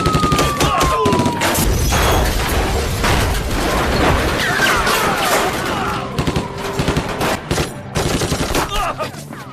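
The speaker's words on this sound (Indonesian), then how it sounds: "Pada saat itu polisi mendatangi Joe dan terlihatlah baku tembak antara geng Joe dan polisi." Dense gunfire erupts in a film shootout between a gang and police: loud, rapid overlapping shots and bursts, close and sustained, thinning into scattered cracks toward the end.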